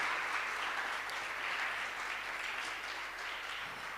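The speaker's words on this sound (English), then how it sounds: "Could we please give him a round of applause?" An audience at a financial planning career and business development session gives a round of applause, a steady dense wash of clapping held at an even level for the whole stretch, with no talk over it.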